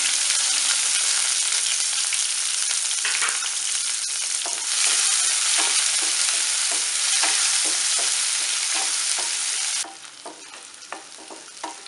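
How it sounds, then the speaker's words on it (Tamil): Steady sizzling of chopped onions frying in hot oil with mustard seeds and curry leaves, with occasional stirring scrapes; the sizzle drops in loudness near the end. "நறுக்கி வச்சு வெங்காயத்தையும் போட்டுக்கலாம்"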